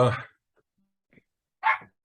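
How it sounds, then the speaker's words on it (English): Dogs barking somewhere in the background, a loud bark at the start and another burst near the end, with faint yips between and long quiet gaps. "God, I can hear the dogs in the background."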